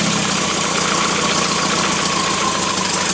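An MG engine idles at tick over on a test bed, running with a steady, loud, even rumble and faint mechanical knock throughout, with no voices.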